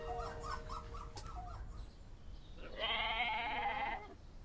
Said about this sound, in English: We've moved the pygmy goats, Brocky and Bourbon, into the donkey stables